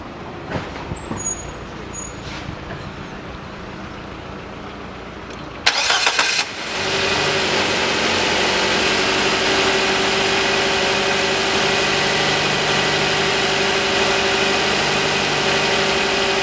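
A 2008 Nissan Qashqai with a 2.0 engine cranks briefly and catches, then settles into a steady, even idle heard close up after a quiet stretch with a few small clicks beforehand.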